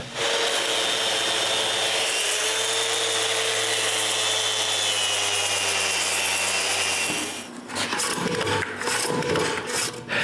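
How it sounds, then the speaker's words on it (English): An electric sander grinds dried glue off a wooden bandsaw part, a loud steady whine with a droning hum for about seven seconds before it cuts out into scattered rubbing and handling noise. "since I have the sander in my hand, I can sand away the glue of my last glue up"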